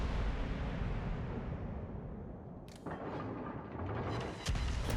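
Warship main-battery shells going off in World of Warships naval combat, a low rumbling boom followed by a sharp blast near the end, over a constant roar of wind and sea.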